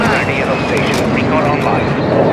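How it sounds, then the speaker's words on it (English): Friendly stealth bomber in Call of Duty: Modern Warfare II, a dense continuous jet roar sweeping overhead, loud and near, with a voice talking over it throughout. "Friendly stealth bomber on the way."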